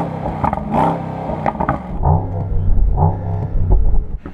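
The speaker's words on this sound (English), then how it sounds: "So I'd like you to rev up your engine." Car engine revved hard while parked for a sound check, giving a near, loud series of rising and falling vroom surges with a deep rumble and some clatter, bouncing off a soft limiter.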